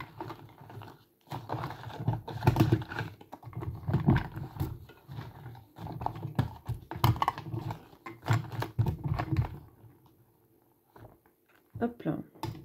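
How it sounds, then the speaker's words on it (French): A stack of sticker cards shuffled by hand, a steady close rustle and shuffle of paper cards with soft taps, running for most of the stretch under a voice speaking. "je vais mélanger les stickers en fermant les yeux"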